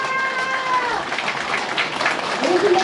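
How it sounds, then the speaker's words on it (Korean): An audience at a business forum applauds to welcome a guest speaker, a continuous wash of clapping throughout with some brief tonal sounds mixed in. "큰 박수 부탁드립니다."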